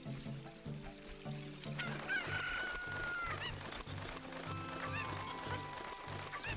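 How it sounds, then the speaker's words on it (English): A chicken crowing in a video game, with several clucking calls and honk-like cries over looping game music with a steady rhythmic beat, fairly loud and continuous. "Hey, chicken."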